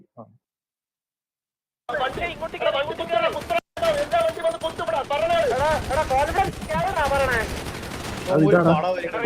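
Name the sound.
gunfire in a video game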